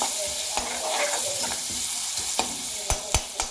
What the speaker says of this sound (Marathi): हे छोटे छोटे दोन कांदे कापून घेतलेले आहेत ते घालून घेऊया ते आता हलवून घेऊया लाल होईपर्यंत